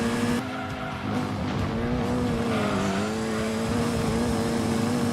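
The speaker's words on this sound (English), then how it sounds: "Excuse me, Toyota GT1, while I just drift around you in my road car." Tires squeal steadily as a road-going concept car drifts around a Toyota GT1 race car in the racing game Gran Turismo 2, a continuous loud screech over the droning engine lasting throughout.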